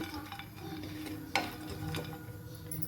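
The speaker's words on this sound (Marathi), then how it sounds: "काजू, बदाम आणि पिस्ता याला फक्त थोडंसं ड्राय रोस्ट करून घेऊ आपण." Cashews, almonds and pistachios are dry roasted without ghee in a pan and stirred with a spoon. Soft scraping and rattling go on steadily, with one sharper clink of metal on the pan partway through.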